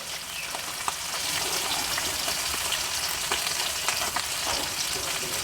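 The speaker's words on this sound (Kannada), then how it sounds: "ಈಗ ಫಿಶ್ ಫ್ರೈ ಒಂದು 10 ನಿಮಿಷ ತನಕ ಫ್ರೈ ಆಗ್ಬೇಕು ರೀ" Small mackerel (bangda) frying in hot oil in a pan, a steady close sizzle with crackling pops running the whole time, no voices.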